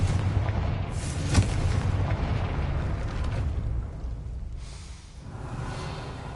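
A Confringo fire spell explodes in Hogwarts Legacy with a sharp burst and a booming blast, followed by a rumbling roar that gradually fades away. No voices are heard.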